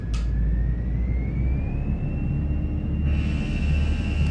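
Airbus A320 jet engines spool up for a TOGA takeoff in a flight simulator, a loud steady roar with a slowly rising whine, heard from the cockpit and brightening toward the end.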